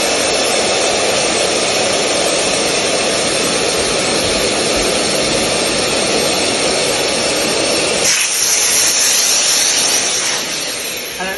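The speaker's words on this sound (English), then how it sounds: "The last thing I'm going to do is just re-inflate the product to give it plenty of pressure." Electric air pump inflating an inflatable product through its valve, a steady loud whining drone that runs continuously, shifts in tone near the end and then starts to fade.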